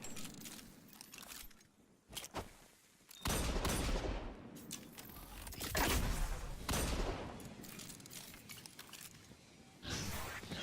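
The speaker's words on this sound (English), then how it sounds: "while I'm shooting this wall" Repeated weapon fire strikes a wall in a video game, with bursts of sharp cracks and shattering impacts that come in several loud waves with short pauses between them.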